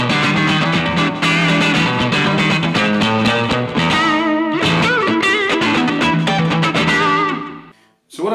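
Strat-style electric guitar with maple and rosewood, alder body, plays with a driven, effected tone: dense continuous chords and bends, loud and close, cutting off abruptly near the end.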